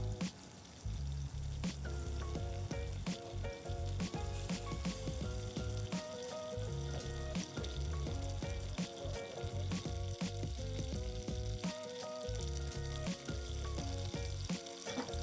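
Short ribs searing in a hot pan on a Traeger grill, a loud continuous crackling sizzle with dense popping spatter and occasional clinks, no talking.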